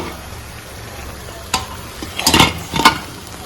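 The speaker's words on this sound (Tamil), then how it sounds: "பஜ்ஜி பாருங்க நல்லா புசு புசுன்னு வெந்து வந்துருச்சு." Bajji fritters frying in hot oil for a tea-shop snack give a close, steady sizzle, broken by a few louder bursts of stirring and crackle near the end.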